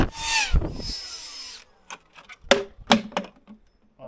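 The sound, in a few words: power drill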